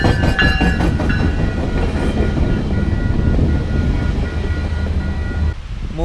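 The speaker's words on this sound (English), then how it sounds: "There's the first Metrolink to LA." A Metrolink commuter train to Los Angeles passes close by along the coast at Aliso Beach, a loud steady rumble and rattle of rail cars with faint high squeals, fading away at the end.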